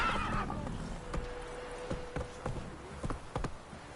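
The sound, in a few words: Roach the horse neighing and trotting in video game The Witcher 3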